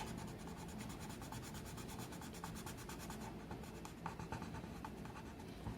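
Colored pencil strokes rub and scratch across paper in quick repeated back-and-forth bursts, close and quiet, with no talking.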